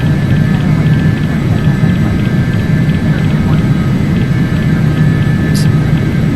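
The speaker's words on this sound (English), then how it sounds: "as the airplane's accelerating" Simulated Hawker 850XP business jet engines in a Carenado flight simulator, accelerating through a climbing turn after takeoff: a steady, loud, close cabin roar with deep rumble and faint high whine tones holding constant throughout.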